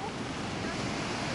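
Stormy sea surf washes onto a pebble beach in a cold bay as a continuous broad hiss and roar, mixed with wind buffeting the microphone.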